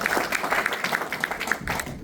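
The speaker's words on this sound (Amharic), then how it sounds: "ለነሱ አንዴ ጭብጨባ ያስፈልጋል።" Applause at a UK Amhara association election meeting in Manchester: a steady patter of many hands clapping, fairly close and even, lasting the full two seconds with no talk over it.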